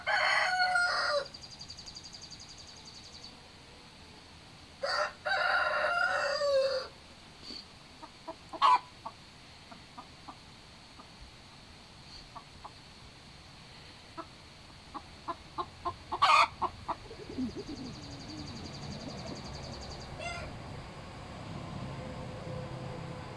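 Chickens on a homestead cluck in short scattered bursts while a rooster crows loudly several times, the calls standing out over a quiet farmyard with no talk.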